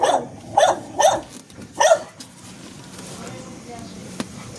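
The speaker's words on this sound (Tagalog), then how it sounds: "May aso. Ang aso ng alaga." A dog barks four times in sharp bursts, fairly close, then the scene settles into quiet background noise.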